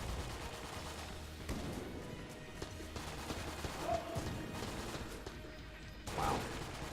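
Rapid gunfire from the video game Enter the Gungeon, a dense run of shots and crashes that keeps going for several seconds with a couple of brighter bursts, loud and close with no talking.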